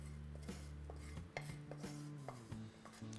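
A spoon stirring kuzhi paniyaram batter with masala in a bowl, with quiet repeated scrapes and clinks against the bowl in a kitchen.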